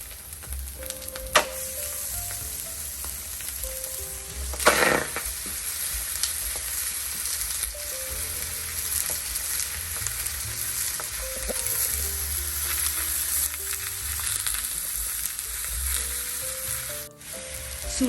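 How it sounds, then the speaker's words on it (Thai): Pork sizzles steadily in a hot frying pan, a continuous crackling hiss with a few clinks and scrapes of stirring. "จะนำหมูมาจี่ที่กระทะนะคะ"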